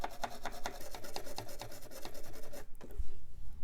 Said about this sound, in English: Let's start with some gentle IPA scrubbing.